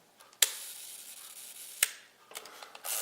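Two sharp mechanical clicks about a second and a half apart, then a softer cluster of clicks, like a camera shutter opening and closing at slow speed, close up: a Konica Auto S film camera's shutter firing at 1 second.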